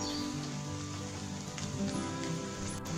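Rain falling in a Panamanian forest, a soft, steady patter on surfaces heard from a distance with no break.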